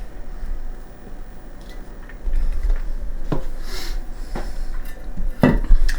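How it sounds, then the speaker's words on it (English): Metal loaf pans clatter and knock on a kitchen counter as they are filled with sourdough bread batter, a few sharp irregular clanks over low handling noise. "So let's put it into the pans and get them into the oven."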